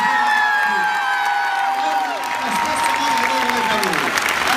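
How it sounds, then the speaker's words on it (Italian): A large concert audience in the Arena di Verona applauds and cheers in a broad, sustained roar, with a sung or sustained vocal tone drifting through the crowd noise. "avete fatto l'applauso gigantesco per questo meraviglioso"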